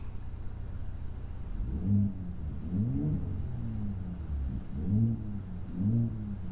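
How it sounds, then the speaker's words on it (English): A 2024 Ford F-150 Raptor pickup's exhaust in sport mode burbles with a deep, low rumble, swelling in a few short rev pulses, close by and fairly steady. "Sport mode now. A little louder. Get a little burble in the exhaust."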